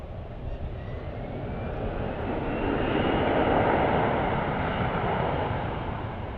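An airliner arriving on runway 17 Center at Dallas/Fort Worth airport roars at a distance, a broad steady engine rumble swelling toward the middle and easing slightly, with no talking.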